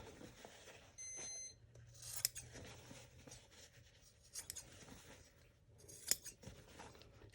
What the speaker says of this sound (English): Trim off the extra threads and that extra string I have there